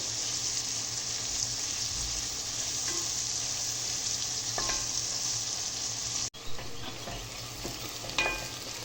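Steady, loud sizzling of tomato paste frying in a hot pan, with occasional scraping of a spoon as it's stirred.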